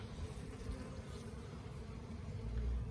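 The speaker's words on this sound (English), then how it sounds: "Bees going in up there" Honeybees buzzing close by as they fly into a hive, a steady low hum with a faint rumble that swells slightly near the end.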